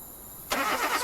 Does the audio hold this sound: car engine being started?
yes